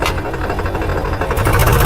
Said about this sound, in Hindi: लेकिन हाई गियर पर ट्रैक्टर ऐसा उठता है। अब मैं दूसरा गियर लगाता हूँ।